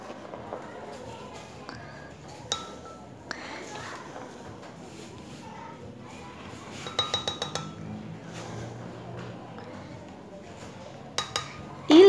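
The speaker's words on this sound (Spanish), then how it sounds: "Y le vamos a ir colocando poco por poco de los granos de elote." Fresh corn kernels are dropped a few at a time into a home kitchen blender jar while making corn tamales. Sparse, light clinks and taps are scattered through a quiet room, with a small cluster of quick ticks midway.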